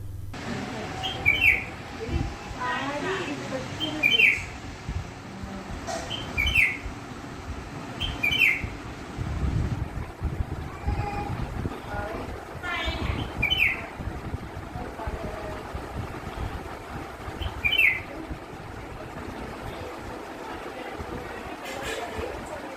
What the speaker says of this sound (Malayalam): സിറ്റ്-ഔട്ടിൽ അതിഥികളായി എത്തിയ 2 കുഞ്ഞുകിളികൾ ഒരു കുടുംബത്തിന് നൽകുന്നത് അതിരില്ലാത്ത സന്തോഷം